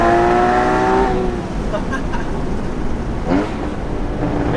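The engine of a Porsche Boxster Spyder 981 roars loudly up close, with a rising rev that eases into a lower, steady drone, and someone talks over it.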